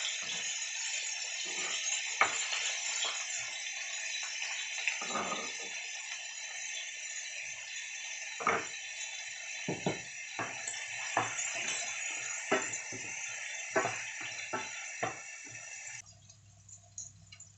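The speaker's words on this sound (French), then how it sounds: "Quand mes saucisses commencent à être bien dorées, j'y ajoute mes oignons que je vais laisser dorer aussi." Sausages and onions frying together in a pan, a steady close hiss dotted with small pops and crackles that stops abruptly near the end.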